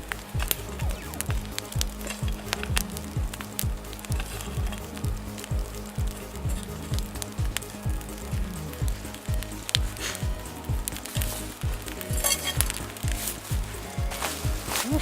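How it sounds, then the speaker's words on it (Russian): Water boils and bubbles vigorously in a pot over a wood-burning camp stove, a dense, continuous crackling and seething sound, close and steady throughout. "Ну все, вода уже кипит."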